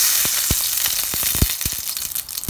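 Olive oil sizzles in a hot pan with a steady, bright frying hiss. Small pops and crackles break through it now and then, close and alone.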